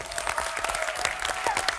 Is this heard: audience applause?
yes